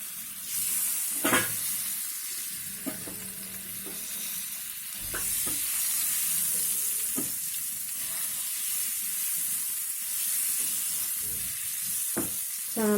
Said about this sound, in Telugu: ఎగ్స్ వేయించుకుందాం.